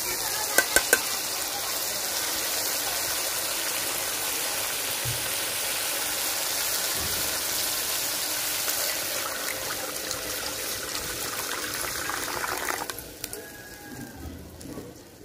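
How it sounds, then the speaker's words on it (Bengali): Water goes into a pan of spice paste that has been frying in oil for a Bengali rohu fish curry with green mango. It sets off a loud, steady hissing sizzle that starts to ease toward the end. "এখন দিয়ে দেবো জল।"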